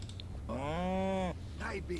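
Cow in The Sims 4 farm-life game lets out one drawn-out, tonal moo lasting under a second, loud and close over a steady low background, with a brief voice-like sound just after.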